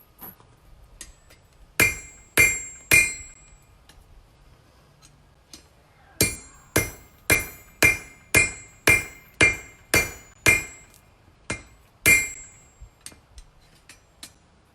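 Sharp ringing hammer blows strike metal at a homemade coal forge, coming singly at first, then in a steady quick run of about a dozen strikes, loud and close with no talk.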